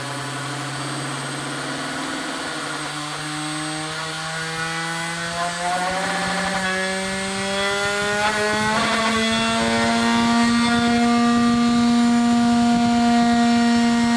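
A motor-driven spinning disc, powered from a bench power supply, hums with a steady whine whose pitch climbs gradually as the speed is raised above normal, loud and close with no talk over it.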